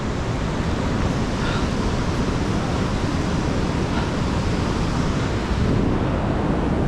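Ohiopyle Main Falls sends river water rushing over its rock ledges in a steady, loud, broadband roar that never lets up.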